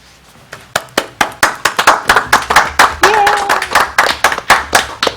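Audience applause at a Lincoln Park city council meeting, steady rhythmic clapping from a moderate crowd that carries on throughout, with a brief voice or whoop rising partway through.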